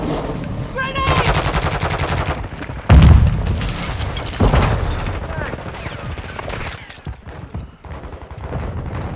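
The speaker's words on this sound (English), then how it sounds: "Grenade!" A grenade explodes amid rapid automatic gunfire during an objective match in Call of Duty: Modern Warfare 2, with loud, close booms over continuous shooting and game announcer voices.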